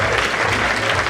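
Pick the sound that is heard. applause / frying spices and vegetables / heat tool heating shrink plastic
applause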